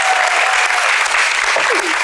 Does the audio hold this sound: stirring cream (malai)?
no